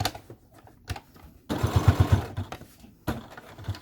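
A sewing machine back stitches a cotton dog leash, sounding as a loud burst of rapid mechanical whirring in the middle, with shorter, quieter runs of stitching before and after.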